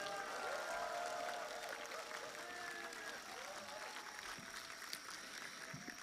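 Outdoor concert crowd at a memorial music event applauding the band, sustained clapping and crowd noise at a moderate distance, with faint cheers mixed in.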